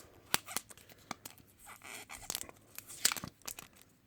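Tape tearing and scraping away from a 1913 vintage postcard: quiet, irregular bursts of ripping and crinkling with short pauses between pulls, close and without talk.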